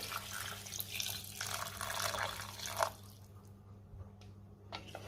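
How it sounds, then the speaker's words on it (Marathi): Pre-heated water, about a glassful, pours into chicken frying in oil in a pan, a close, hissing splash and gush for nearly three seconds that then stops, leaving a quiet hum with faint sizzle. "आता मी त्यामध्ये पाणी घालते।"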